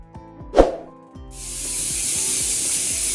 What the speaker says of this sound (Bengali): প্রেশার কুকারে পায়া বসিয়েছি